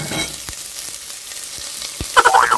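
Onions frying in a pan for chicken feet adobo, a close steady sizzle with crackling pops and a few scraping stirs, no talk.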